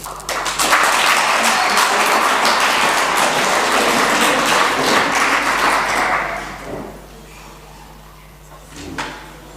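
Sustained loud applause from a school audience at a debate between Kingswood and DSG teams, fading after about six seconds to scattered claps and a few knocks.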